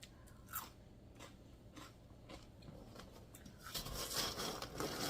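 Close, crisp crunching of homemade party mix being chewed, several irregular bites in a quiet room, growing louder and denser toward the end.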